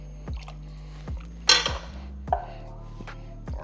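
Water poured into a pot of baked ziti sauce on the stove, a brief splashing rush among clinks and taps of cookware and utensils.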